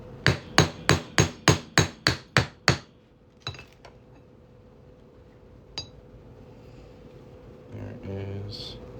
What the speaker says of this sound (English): I'll pop that on there and hammer it on through.